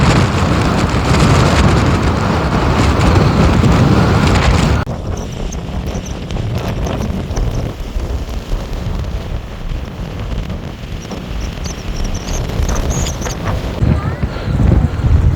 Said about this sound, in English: So this is going to be very windy.